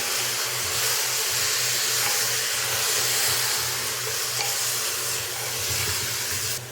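Bone-in mutton sautés in a pan while being stirred, a loud, steady sizzle close by with scraping stirs and a low hum beneath, without any talking.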